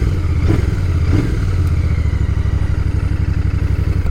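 A Royal Enfield Bear 650 motorcycle exhaust gives a loud, steady grunty throb at close range, with a brief blip of throttle near the start before settling into an even, rumbling beat.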